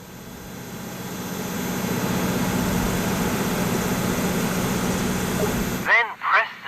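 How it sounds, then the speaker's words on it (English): An aircraft ground power unit engine in the AirportSim game runs with a steady, loud low drone that rises slightly and holds, then cuts off before a brief spoken voice. "switch the engine setting knob from idle to run"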